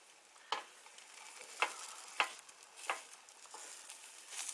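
Scrambled eggs fry quietly in a pan under a faint continuous sizzle, broken by four or five light clicks of a utensil spaced about half a second apart.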